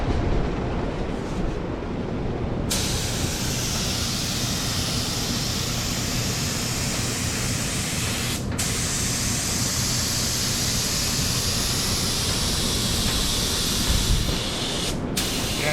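A DeVilbiss FLG4 spray gun sprays finish while an air compressor runs, a loud steady broadband hiss that holds without a break for about fifteen seconds, with a couple of brief dips.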